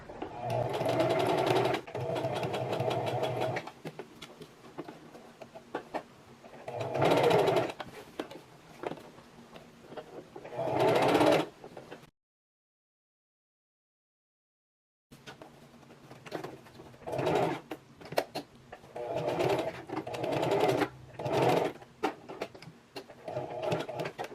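A sewing machine stitching the waistband of a bias-cut maxi skirt, running in several bursts of steady whirring with pauses and a silent gap, with some quiet talk between runs.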